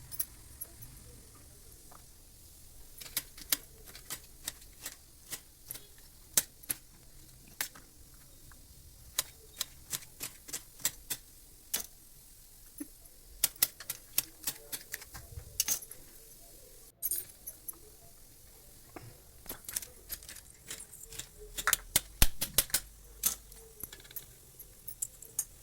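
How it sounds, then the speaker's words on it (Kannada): Knife cutting taro stems into half-inch pieces on a board, a long series of sharp, close chopping taps at uneven intervals, sometimes in quick clusters, over a quiet room background. "ಕೆಸುವಿನ ದಂಟನ್ನು ಈ ರೀತಿ ಕಟ್ ಮಾಡಿಕೊಳ್ಳಬೇಕು. ಒಂದು ಅರ್ಧ ಇಂಚಷ್ಟು ಸಾಕು."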